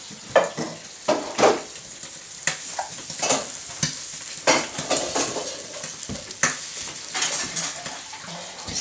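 Knob of butter melting in a pan, with bubbling sizzle and frequent metallic stirring clatter and spoon knocks in uneven bursts, close by, no talking.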